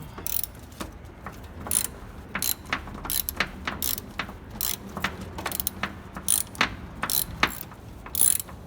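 A ratchet wrench works a coilover bolt loose on an NA Miata, its rapid clicking bursts coming in repeated short strokes up close, with pauses between runs.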